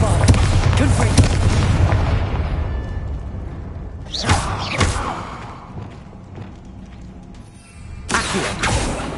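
Confringo and Bombarda blast spells from the Hogwarts Legacy video game go off as loud booming explosions, with a heavy rumble at the start and two more sharp bursts later, under game sound.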